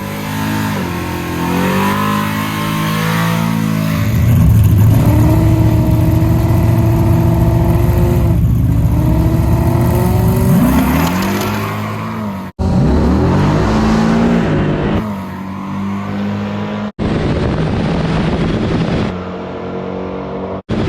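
A drag race between a Whipple-supercharged late-model Mustang with a Coyote V8 and a nitrous 23-degree small block Chevy: loud engines rev and roar through rising, falling pitch sweeps, with sharp cuts and surges near the end.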